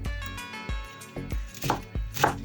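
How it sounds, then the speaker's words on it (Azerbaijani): A knife chops cleaned purslane on a board in quick, crisp strokes, about six sharp thuds in an uneven rhythm, close and clear with no talk. "Təmizlənmiş suyu çəkilmiş pərpətönləri orta ölçüdə doğrayırıq"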